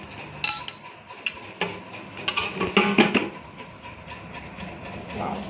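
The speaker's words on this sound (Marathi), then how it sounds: "तर आपण आता हा केक प्लेटमध्ये काढून घेऊयात." A freshly baked rava cake is moved onto a plate, with a series of sharp clinks and knocks of metal utensils and dishware coming close and irregularly, several louder taps bunched in the middle and quieter handling afterward.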